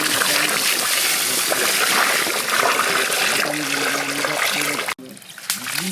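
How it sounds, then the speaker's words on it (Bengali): Rice is washed by hand in water, with continuous close splashing, trickling and sloshing, ending with a brief pause. "চাল ভালো করে ধুয়ে নেব।"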